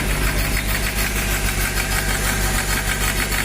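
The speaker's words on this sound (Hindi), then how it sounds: "दो पे आरपीएम है और इंजन का साउंड देखिए।" A Hyundai i10 Grand diesel engine idles up close with heavy vibration, a loud, steady rhythmic clatter and knock that continues throughout without any talking.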